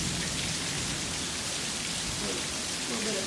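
Heavy rain pours steadily outside during a summer storm, a dense continuous hiss of drops on surfaces, close and loud with no voices.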